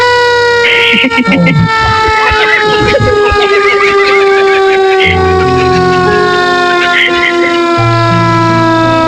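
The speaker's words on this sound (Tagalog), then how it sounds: "Parating na pong ambulansya po, oh." An ambulance siren on a road test with no patient, sounding a steady, continuous wail alongside horn blasts, with voices talking over it throughout.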